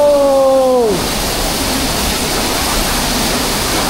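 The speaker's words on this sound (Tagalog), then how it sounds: "Eto na yung hidden fall. Woo! Ang lakas ng tubig." Hidden falls at a resort in Bulusan, Sorsogon roar with steady, broadband rushing water, loud and close throughout, after a brief whooping voice at the start.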